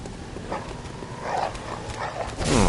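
A dog enemy in the video game Bloodborne growls and barks in several short, snarling bursts, fairly close, over a noisy game backdrop.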